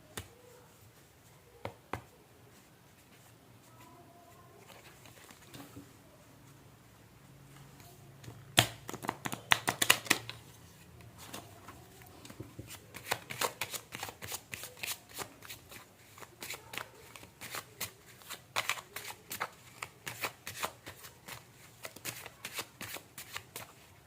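Tarot cards are shuffled close by in repeated bursts of riffling and flicking. The shuffling starts sparse and faint, then turns denser and louder, with no speech.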